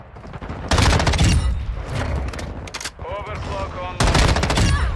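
M13B rifle gunfire in the video game Modern Warfare 2: loud, rapid automatic bursts, one long burst then another after a short pause, with game sounds in between and a voice talking over it.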